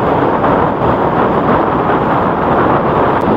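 Strong headwind roars across the microphone during a Yamaha NMAX scooter ride, a loud, steady, broadband rush with no talking.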